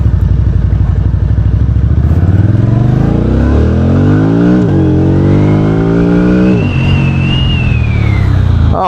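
A VOGE CU625 AMT motorcycle engine revs up loudly and close, pitch climbing steadily with gear changes and dips as revs rise again, a continuous strong drone throughout.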